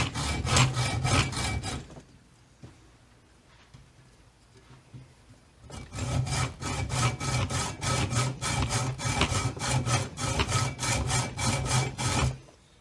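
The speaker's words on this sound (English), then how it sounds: "Hacksawing is going to be a little bit more difficult." Close, rhythmic hacksaw strokes rasp through metal in two bursts separated by a quiet pause, each pass a harsh scraping pulse in steady back-and-forth rhythm.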